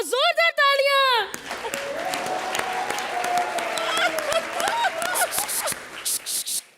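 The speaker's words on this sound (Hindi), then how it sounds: "जोरदार तालियां।" Studio audience applause on a Hindi comedy show, a broad wash of clapping and crowd noise after a brief opening stinger, running steadily for several seconds before thinning out near the end.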